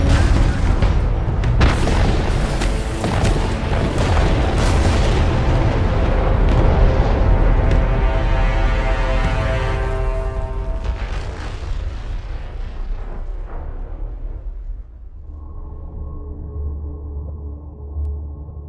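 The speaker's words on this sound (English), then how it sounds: "We got a railgun." Heavy railgun fire from a Gaalsien carrier in the strategy game Homeworld: Deserts of Kharak, a sustained roar of booming blasts and rumble that gradually thins, then gives way to a steady low hum.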